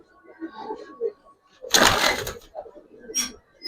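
Pigeons coo softly in low, warbling calls, mixed with a burst of rustling or flapping and some background noise.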